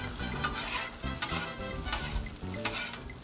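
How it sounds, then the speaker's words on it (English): Chicken fried rice is stir-fried on a 22-inch Blackstone griddle, a constant loud sizzle under repeated spatula scrapes and tosses at an uneven, busy pace, with nobody talking. "That's why they call it stir fried rice, because you stir fry everything."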